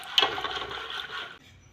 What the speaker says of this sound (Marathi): मस्त स्वच्छ धुवून काढू पाणी टाकून